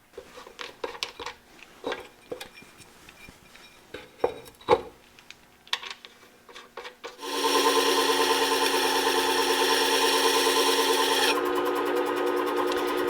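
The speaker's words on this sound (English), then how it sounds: "I'm going to go back to my bench machine there with some finer abrasives and work through the polishing of the back" Several sharp scraping and rubbing strokes of a hand plane iron on abrasive come first, then a bench machine whirs up into a loud, steady run as the back is polished with fine grits, close up with no talking.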